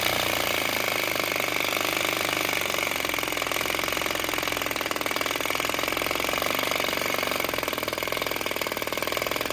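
A small flame-lit vacuum (atmospheric) engine runs steadily right after lighting, a loud continuous rapid mechanical chatter with dense rattling and a bright hiss, unbroken and even throughout.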